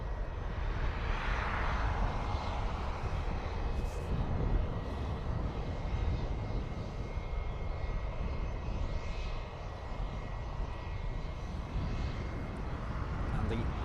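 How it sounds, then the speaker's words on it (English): A Challenger 350 business jet departs Dublin Airport, its engines producing a loud, sustained broadband roar throughout, with a person talking over it. "this posh jet off to Austria."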